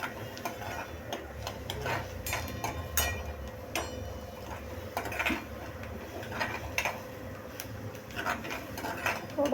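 A paste of green chili, ginger, garlic and coriander is sautéed in a pan. A low background sizzle runs beneath scattered light clinks and scrapes from a spoon, fairly quiet and steady.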